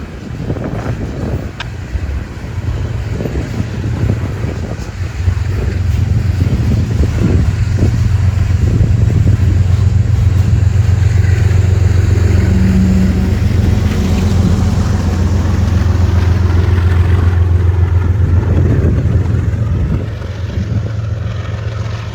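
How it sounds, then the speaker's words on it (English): Locomotive 3242 chugs steadily with a deep, continuous engine rumble that swells after a few seconds and holds loud and close, with wind buffeting the microphone throughout. "I just love to listen to the engine chugging away"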